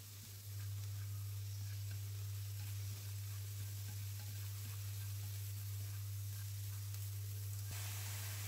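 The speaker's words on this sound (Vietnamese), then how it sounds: "Mình xào cho cái phần nấm với cà gót này vừa chín tới" Mushrooms and carrots hiss and sizzle steadily while being stir-fried in a pan for a vegetarian meatball dish, a constant close frying sound over a strong low hum.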